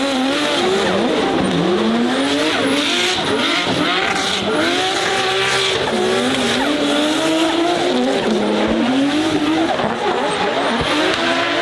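A drift car slides through a practice warm-up run, its engine droning loud and steady while the tires squeal continuously in wavering, rising and falling tones, close and without pause for the whole stretch.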